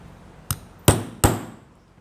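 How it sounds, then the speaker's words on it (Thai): A hammer strikes a stamping punch into the flap of a small leather bag: three sharp, close knocks with short decays, the first lighter and the next two heavier and evenly spaced, with no talking. "เพราะฉะนั้นการตอกนะคะ ต้องทะลุ ไปด้านหลังนะคะ"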